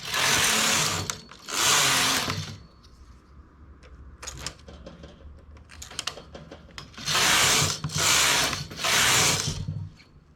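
A knitting machine working a one-piece cardigan yoke, its carriage swept across in loud rasping passes separated by quieter clicks and mechanical ticks, close by with no talking.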